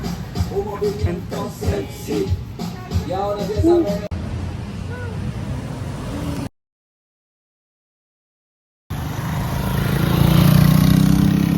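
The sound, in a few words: motorcycles passing on a road in Colombia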